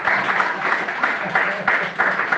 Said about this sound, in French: Est-ce qu'on peut un peu acclamer le Seigneur?